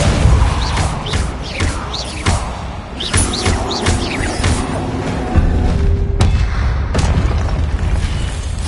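A Depulso repelling spell strikes in the video game Hogwarts Legacy: a run of sharp thuds and booming impacts, several in quick succession, over a heavy, continuous rumble of combat.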